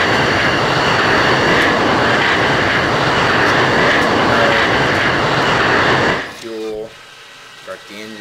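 An F-16 jet engine spooling up in the Falcon 4 BMS flight simulator, with a loud steady roar and whine for about six seconds before it cuts off, followed by a few short clicks and tones.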